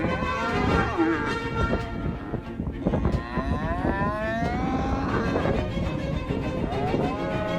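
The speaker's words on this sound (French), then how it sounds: "les vaches qui lui font face et qui tentent même de le piétiner" Cows lowing in a field, several long, drawn-out moos rising and falling, loud and close over a rough outdoor background.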